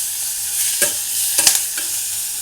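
Carrots stir-fried with onions in a pan for jollof fonio, a loud close sizzle with three or four scraping stirs of a spoon, and nobody speaking.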